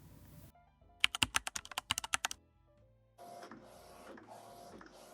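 A home printer prints a brand pattern onto vellum paper, starting with a rapid burst of sharp mechanical clicks and ratchets, then settling into a softer steady whirring feed, close and alone.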